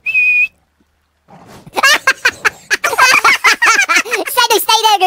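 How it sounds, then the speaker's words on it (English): A single sharp whistle sounds at the start during an Ark Survival Evolved game session, then after a brief silence excited voices and laughter follow. "You go on my first whistle."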